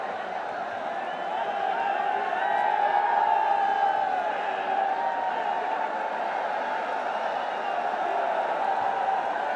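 A packed stadium crowd at a Bangladesh versus West Indies T20 cricket match gives off a steady, distant roar, a broad, continuous wash of cheering voices with no single standout shout.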